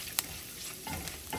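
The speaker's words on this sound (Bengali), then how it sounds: "সব কিছু এর সাথে একটুখানি ভাজা ভাজা করে নেব।" Garlic fries in a pan with chili flakes, black pepper and Italian seasoning: a soft, steady sizzle broken by a few scraping stirs, close and fairly quiet.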